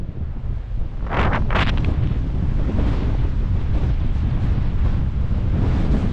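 Strong wind roars across a Snowdonia mountain in winter, a steady loud buffeting rush with heavy microphone rumble and a few brief gusting swells, no voices.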